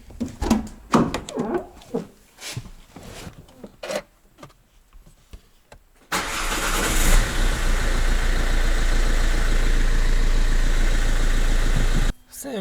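A taxi car's engine is cranked and catches at about six seconds, settling into a loud, steady idle rumble that runs for several seconds, after clicks and handling noises and someone speaking at the start.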